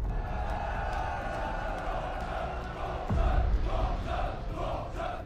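A crowd in a Korean drama roars and cheers for the champion, a loud continuous wash of many voices that surges and swells halfway through.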